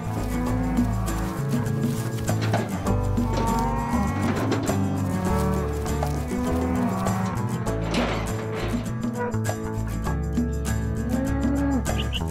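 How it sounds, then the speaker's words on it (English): A whole herd of cattle setting off for the fields moos loudly and continuously, many overlapping calls layered near and far, with no voices over them. "the entire herd, with Nougaro at the head, sets off for the fields"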